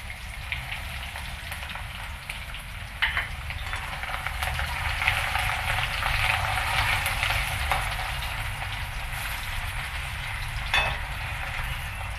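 Chopped garlic pieces hit hot oil in a pan for stuffed bitter gourd curry and set off a steady, bright sizzle. A few sharper pops come through while the frying carries on evenly.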